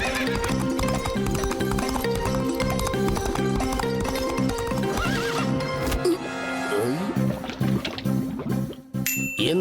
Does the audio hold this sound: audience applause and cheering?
no